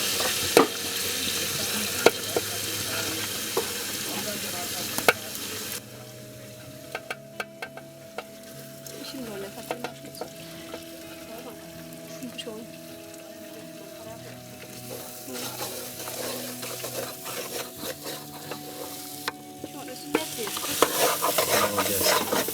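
Sthrop, a traditional Baltistan dish, is stirred and fried in a pan: continuous sizzling with scraping stir strokes, loud at first, quieter through the middle, then rising again near the end.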